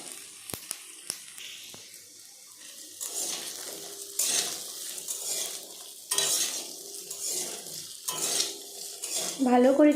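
Cut potatoes frying in a pan with chopped green chilli and ginger, stirred with a spatula: sizzling hiss with repeated scraping and clanking strokes against the pan, close up and fairly quiet, with no talking.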